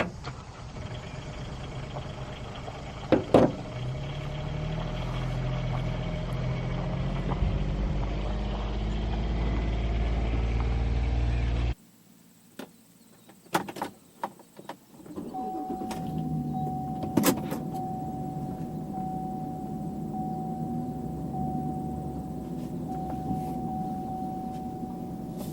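A pickup truck drives along with a steady engine and road rumble, interrupted briefly by a quieter stretch with clunks, then resuming with a steady whine over the running engine.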